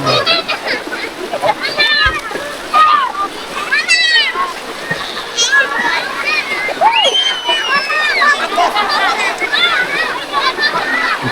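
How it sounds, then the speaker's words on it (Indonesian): Swift river water rushes and splashes steadily at a swimming spot, a continuous broadband wash close by, with children's voices and people talking over it throughout. "Karena ini air sungainya deras."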